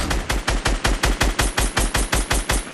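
Rapid automatic gunfire from the video game Fortnite, a loud, evenly spaced burst of about a dozen shots fired in quick succession, heard alone with no talking.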